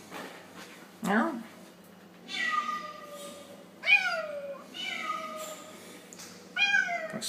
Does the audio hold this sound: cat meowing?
yes